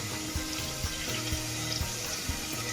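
Whole spices (black cardamom, tailed pepper, black pepper and shahi jeera) sizzle in hot oil for haleem, a steady broadband crackle with a few soft knocks of the pan underneath.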